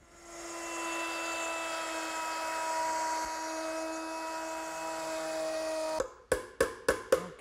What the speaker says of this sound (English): I'm going to route it out using a quarter inch veining bit set up in my router.